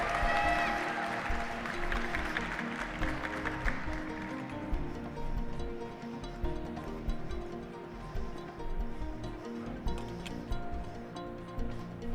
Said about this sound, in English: Let's give a big round of applause for Morgan's Espresso Course!